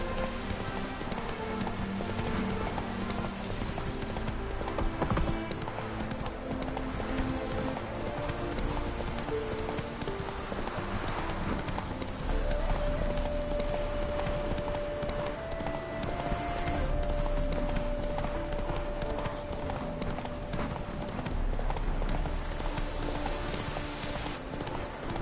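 Horse hooves galloping in The Witcher 3, a continuous rapid clip-clop rhythm running the whole time over game music and ambience, close and steady, with no talking.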